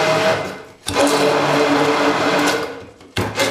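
A blender blitzing mint pesto with leaves and nuts, running in loud, steady whirring bursts that briefly cut out and restart twice, close by, with no talk.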